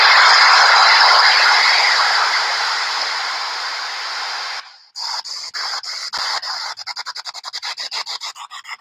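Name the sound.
PSB-7 spirit box scanning radio frequencies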